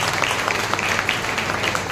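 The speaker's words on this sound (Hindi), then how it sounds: "एक बार जोरदार तालियां हो जाए सर की" Enthusiastic applause from students at a motivational session on competitive-exam preparation, steady dense clapping that carries on throughout the short stretch.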